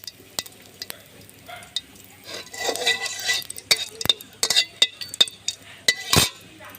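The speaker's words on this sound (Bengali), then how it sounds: "জিরাটা ভাজা হোক" Gentle sizzling of cumin seeds in hot oil, with scattered metallic clinks and scrapes of a utensil stirring in a pan.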